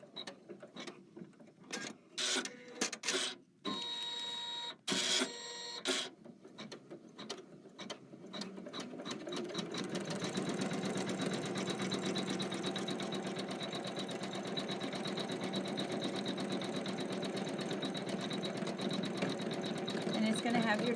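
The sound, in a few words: embroidery machine stitching three-petaled flowers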